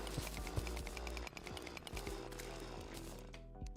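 A drill mining through blocks in the video game Terraria with the Calamity mod gives a continuous harsh grinding buzz with rapid rattling pulses, steady and fairly prominent, then thinning out near the end.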